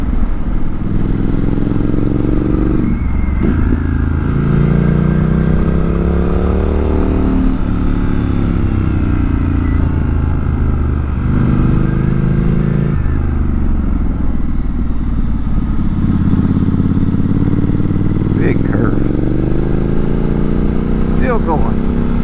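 Motorcycle engine riding Route 197 between Pensacola and Barnardsville, North Carolina, close and loud, rising and falling through repeated gear shifts without hitting the rev limiter, with wind noise throughout.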